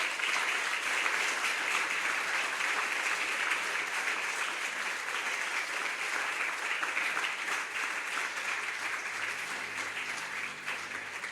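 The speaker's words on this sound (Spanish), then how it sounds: "Dele un aplauso al Señor." A church congregation applauds steadily and loudly throughout, a dense even wash of clapping at a Spanish-language service that fades only slightly toward the end.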